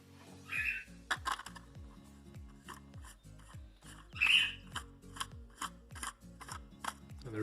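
A nylon 3D printer filament spool is loaded onto a roller, giving repeated rubbing, scraping rotations and small clicks in a steady rhythm, close and fairly quiet, with no talk.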